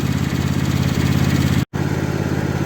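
A tractor engine runs at a steady idle throughout, close and loud, with one very brief cut to silence partway through.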